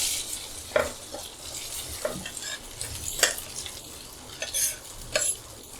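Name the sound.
cut bottle gourd muthiya frying in mustard-sesame tempering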